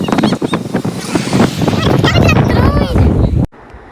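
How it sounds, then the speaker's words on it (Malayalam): Strong wind near backwaters buffets the microphone in a loud, continuous rush beneath a person talking, then cuts off abruptly near the end. "ഭയങ്കര കാറ്റ് കേട്ടോ, ഭയങ്കര കാറ്റ്"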